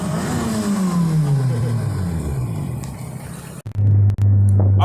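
A turbocharged K24-powered Acura RSX pulls hard, its engine note climbing steadily through a gear under heavy rumble before a sharp break and a lower steady drone, loud and close with no talking.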